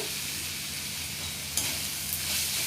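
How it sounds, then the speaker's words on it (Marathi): Red chili powder frying in oil on a low flame for egg bhurji, producing a steady, close hiss of sizzling with a couple of brief stirring scrapes. "लाल मिरची पावडर व्यवस्थित परतून घ्यायचं आहे मसाले खाली करपतील म्हणून गॅसची फ्लेम मंदच ठेवायची आहे"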